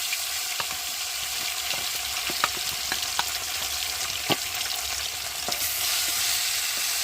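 Small pieces of salted, turmeric-rubbed tilapia fry in oil in a home kitchen, giving a steady broadband sizzle with scattered sharp pops and crackles throughout, close and alone with no voices.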